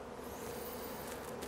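Honeybees buzzing densely and continuously around spring hives near Milford, Iowa, just back from California, a steady close swarm hum with no talk.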